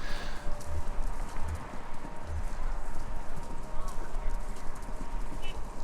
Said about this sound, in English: It sounds like horses? Horses running?